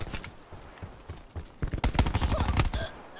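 Pistol gunfire in the Call of Duty Black Ops 4 video game, a burst of sharp shots clustered in the second half over background game noise, with a few scattered earlier pops.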